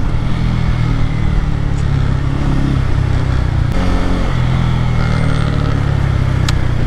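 A Kawasaki Pulsar N250 250cc motorcycle being ridden, its engine a steady, close, loud drone that holds without a break and carries no talk.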